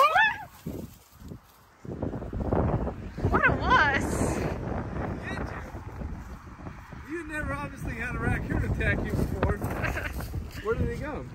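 Gusty wind buffets the microphone outdoors, a steady rumbling roar beneath several people talking and shouting nearby.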